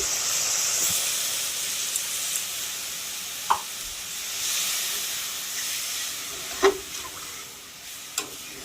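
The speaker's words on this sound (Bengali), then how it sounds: "জলটা ফুটে ওঠার অপেক্ষা করব" Water for gravy heating in a pan with green chillies, a soft steady hiss and simmer with a few scattered clinks and taps, no talking.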